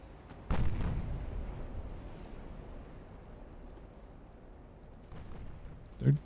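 Warship guns firing in the naval game Ultimate Admiral: Dreadnoughts, a deep boom at the start fading into rumbling sea and wind, with a softer thud later and another sharp blast near the end.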